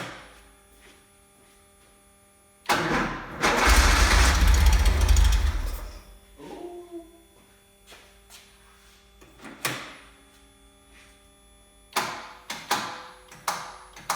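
Starter cranks an engine fitted with rebuilt Zenith 40 TIN three-barrel carburetors, a loud sustained grinding burst of about three seconds that fails to catch, followed by scattered clicks, taps and handling noises.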